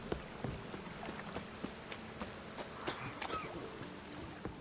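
Rain in the video game The Witcher 3, a continuous patter with scattered sharper drops falling over a low ambient bed, no talk.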